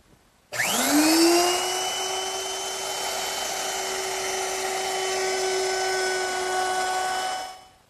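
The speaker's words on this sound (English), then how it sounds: "Now I'm going to round over the bottom edge of my top with a quarter-inch rounding over bit." A router with a quarter-inch round-over bit spins up with a sharp rising whine and holds a steady high-pitched scream for several seconds before winding down, cutting the bottom edge of a wooden table top.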